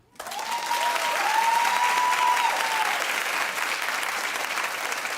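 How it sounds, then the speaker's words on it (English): A studio audience at a daytime talk show breaks into loud, sustained applause that starts abruptly and continues to the end, with a brief cheer rising over the clapping. "Clap if Rachel needs to be there no matter what"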